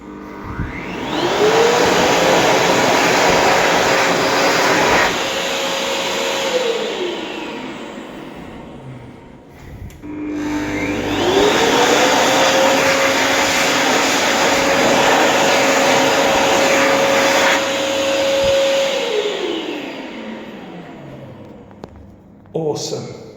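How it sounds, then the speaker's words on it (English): Two World Dryer Verdi-Dry V2 hand dryers in a men's toilet in Auckland run in two loud, sustained blasts of about eight seconds each. Each blast has a rising whine as the motor spins up and a falling whine as it winds down. "The men's toilets here has a pair of nice World Dryer Verdi-Dry V2s supplied by Supreme."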